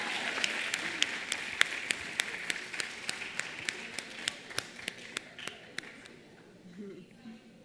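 Applause for an award recipient at a dental aesthetics congress: a crowd claps in a quick, fairly steady rhythm that gradually fades out toward the end, with faint talk underneath.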